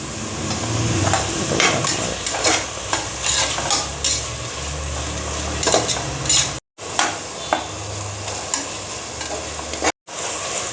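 Coriander and mint leaves with salt sauté in hot oil for biryani, a steady sizzle broken by regular spatula stirs and scrapes against the pan, close and fairly loud, with two brief silent gaps.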